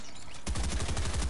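Video game gunfire erupts as a dense, rapid burst of shots aimed at the player, loud and continuous after a quieter opening moment, with no talk over it.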